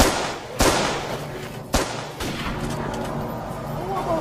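Gunshots ring out in a Jamaican gang war film, two sharp loud cracks about a second apart followed by a softer third report, with voices murmuring in the background.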